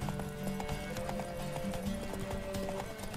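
Horse hooves galloping in The Witcher 3, a fast, rhythmic clip-clop of repeated hoof strikes, fairly faint and steady over the whole stretch, with no talking.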